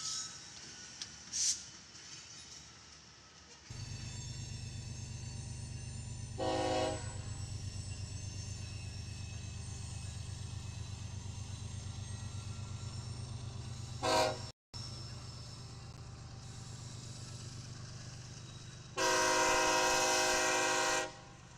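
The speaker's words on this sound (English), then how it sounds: "Ferromex number 4074, which is an EMD SD70Ace built in November of 2011" Ferromex 4074, an EMD SD70ACE locomotive built in 2011, rumbling past with a steady low engine drone and several loud multi-tone horn blasts, short early on and a long one near the end.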